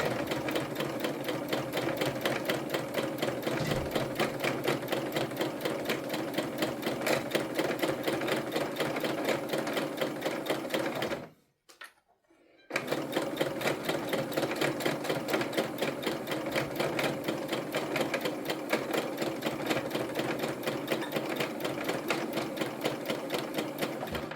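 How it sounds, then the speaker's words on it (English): A sewing machine stitching a tote bag runs at medium speed in a fast, steady mechanical rhythm, stops briefly about midway, then resumes stitching at the same even pace. "You can choose the speed of your sewing machine."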